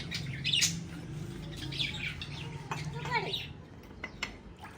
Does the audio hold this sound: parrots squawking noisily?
yes